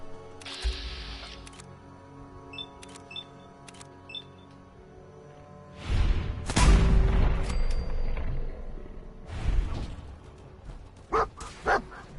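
A dog barks in Fallout 4, a few sharp barks close by among game sounds such as clicks, a swelling rumble and scattered thumps.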